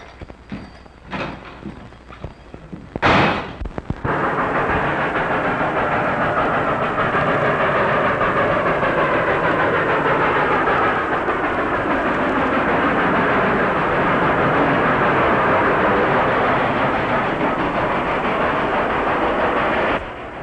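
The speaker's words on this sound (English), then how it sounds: "It's a ghost train, all right." A train running on the rails rumbles loudly and steadily after a few brief knocks and a sharp burst near the start, its heavy clatter holding constant to the end.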